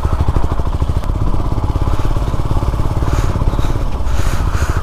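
A Royal Enfield Himalayan motorcycle engine chugs in first gear, a loud, close, rapid thumping beat that holds steady throughout with no speech.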